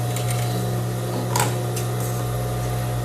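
A sewing machine runs a steady stitch through crepe bubble fabric to gather a ruffle, giving a continuous mechanical hum with a few brief clicks partway through and no talking.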